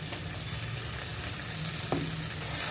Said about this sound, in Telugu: పచ్చి వాసన పోయేదాకా వేయించుకోవాలి నూనెలో.